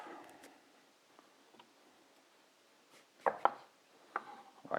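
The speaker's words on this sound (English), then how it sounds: "Now for aubergine, we take away the top," A kitchen knife slices the top off an aubergine, giving a few crisp, close cuts against a board after a quiet start, with no one talking.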